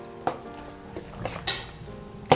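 Batter is worked into marinated pork by hand in a bowl for fried Thai street-market pork, giving soft wet squelching and stirring with a few sharp clinks of a utensil against the dish.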